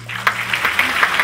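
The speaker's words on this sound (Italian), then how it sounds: "vorrei ringraziare, accompagnati da un grande applauso" A short burst of audience applause at a 2024 premiere evening, the clapping fairly loud and even over a low background hum.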